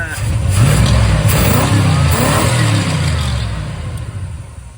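A 1979 Chrysler 300 engine running on a rebuilt Thermoquad carburetor idles with a loud, close, throaty rumble that swells and then eases off, with a voice speaking over it.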